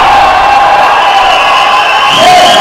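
A loud crowd roars and cheers throughout a women's boxing title show, a steady dense wall of voices with no single word standing out.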